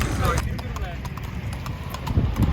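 A horse carries a rider at a walk, its hooves clip-clopping in a steady, close rhythm. Someone talks over the hoofbeats.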